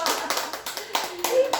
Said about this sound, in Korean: 우리 박수 주세요.